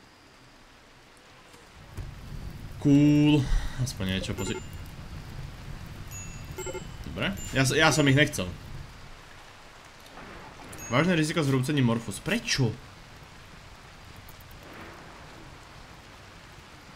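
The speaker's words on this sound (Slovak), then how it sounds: "Okej, okay, prší." Rain falling in the colony-building video game RimWorld, a steady soft hiss running faintly underneath someone talking in bursts throughout.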